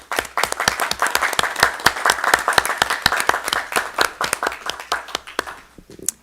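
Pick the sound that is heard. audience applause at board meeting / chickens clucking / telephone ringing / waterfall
audience applause at board meeting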